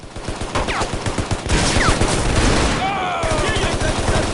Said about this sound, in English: We're about to get into another firefight here.